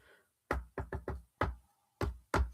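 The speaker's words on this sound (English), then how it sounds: "7 knocks on the door." Seven sharp knocks on a door in an uneven rhythm, a quick run of four, then a pause and three more spaced apart, loud and close in an otherwise quiet room.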